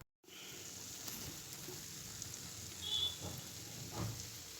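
A noodle pizza base made with semolina and cornflour sizzles in a frying pan, a soft, steady hiss with faint crackles throughout, heard alone and fairly quiet.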